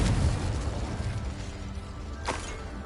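In the video game Hogwarts Legacy, the Confringo explosion spell bursts with a loud rumbling blast, followed by a brief sharp crackle a couple of seconds later.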